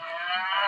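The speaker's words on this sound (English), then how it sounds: "The cows went straight up the road toward Bethshemesh, mooing as they went." A cow moos once on a road, loud and close. The call is a sustained, rich, tonal low that holds steady for under a second with no other sounds around it.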